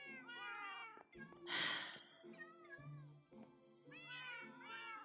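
A Minecraft cat meows several times in clear, close calls separated by short pauses, with one breathy, noisy burst between the first and second meows.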